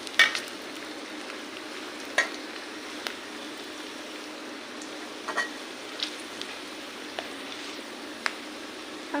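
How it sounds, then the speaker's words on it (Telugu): Chopped onions fry in a pan with a steady, quiet sizzle, broken now and then by soft clicks and taps from stirring. "ఆనియన్స్ అయితే వేయండి. వేసి మంచిగా ఫ్రై అవ్వనివ్వండి."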